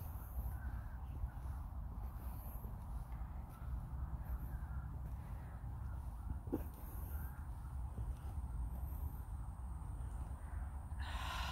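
Crows caw faintly in the distance around graves in Metairie Cemetery, New Orleans, scattered calls over a low outdoor background hum for several seconds, with no voices.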